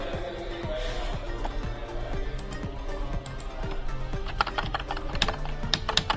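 Computer keyboard keys are tapped in a steady run of close, crisp clicks over a constant background hum.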